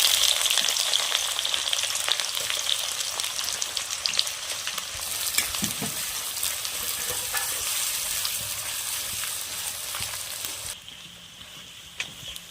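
Chopped onions fry steadily in oil with bay leaf, cinnamon, cardamom and cumin for a home-raised Sonali chicken curry, a continuous close sizzle with a few stirring knocks that quietens slightly near the end.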